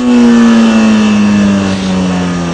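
A motorcycle engine holds a loud, close, sustained drone as the throttle rolls on to lift the front wheel into a wheelie, its pitch sagging slightly toward the end.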